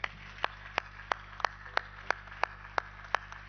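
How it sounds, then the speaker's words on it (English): Faint, slow, evenly spaced claps at a capital markets conference, sounding like only one or two people, heard over a steady low electrical hum. "Let's give a big round of applause to the gents here."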